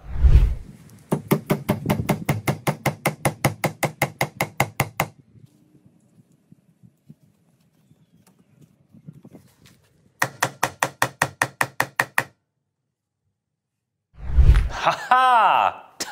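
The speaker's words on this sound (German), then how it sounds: "Die Schraube einfach mit dem Hammer rein smashen." Hammer driving a screw into wood with rapid, evenly spaced sharp blows in two long bursts separated by a quiet pause, loud and close, with a voice heard briefly at the end.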